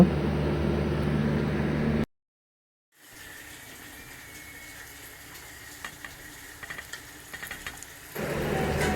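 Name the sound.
onion sautéing in a pan for prawn masala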